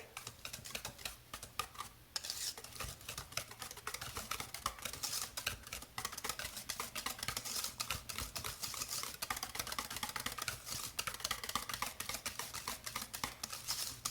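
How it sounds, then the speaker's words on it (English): Keto muffin batter is whisked briskly in a bowl, giving a fast, even patter of rapid light taps and scrapes that runs on without a break. "let me go ahead and whisk this together"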